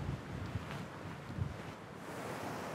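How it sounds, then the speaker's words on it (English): Steady roar of glacier meltwater gathering into a stream at the base of Silverthorne Glacier in the Great Bear Rainforest, a continuous broadband rush with gusts of wind across the microphone, no voices. "is the roar of a glacier becoming a stream"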